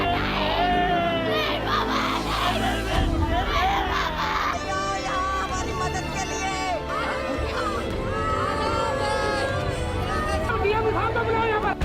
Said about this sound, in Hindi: मुरादनगर में शमशान घाट के गिरे हुए ढांचे के नीचे दबे लोगों के घर वालों की चीख एक बार फिर